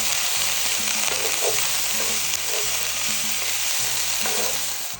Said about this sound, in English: now I'm going to saute the onions and the red and yellow peppers